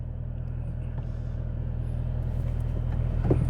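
A 2022 Chevrolet Camaro ZL1 1LE sits idling in neutral, its engine a low, steady rumble heard from inside the car with a faint rise toward the end.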